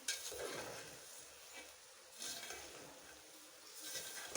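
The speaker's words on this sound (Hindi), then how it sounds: "अब मैं इसे मिक्स करूँगी।" Sweet zarda rice being stirred with sugar in a cooking pot, soft scraping and a faint low sizzle in short, quiet bursts.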